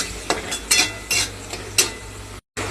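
A spatula stirs turmeric, chili powder and salt in a hot pan, giving several brisk scraping strokes close up over a soft background hiss, with a brief silent gap near the end.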